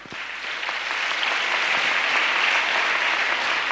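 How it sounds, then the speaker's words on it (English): An audience at a Kenyan Ministry of Education school funding launch breaks into sustained clapping, building quickly and holding at an even, dense level throughout. "Let's give a better clap."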